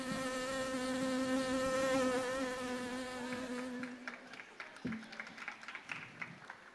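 A steady, tonal buzz imitating a housefly fills a school Hindi play on stage, loud and wavering for several seconds before breaking off into scattered clapping and stage noise.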